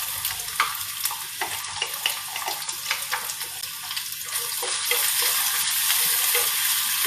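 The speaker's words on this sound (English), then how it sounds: "we put the chopped ginger, grated ginger, grated garlic and chopped green chilies right in" Steady sizzling and crackling of chopped ginger, grated garlic and green chilies frying in oil in a hot pan, with occasional stirring scrapes, close up and without talk.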